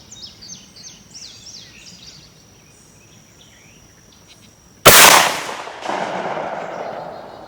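A single loud 12 gauge shotgun blast fires a reloaded mini slug at an outdoor range, echoing as it decays. Faint birdsong chirps in the quiet moments before the shot.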